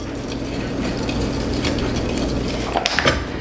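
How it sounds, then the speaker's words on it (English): A whisk scrapes and clicks against a bowl while cornbread muffin mix is stirred, a steady close rattling with a few sharper knocks near the end, heard alone without voices. "We'll just whisk this together."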